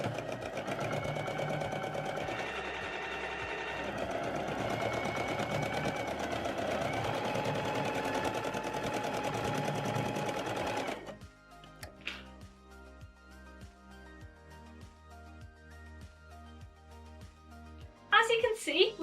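Sewing machine stitching pant pieces together along the side seam, a close, steady whirring run lasting about ten seconds, followed by a quieter stretch with small clicks and handling noises.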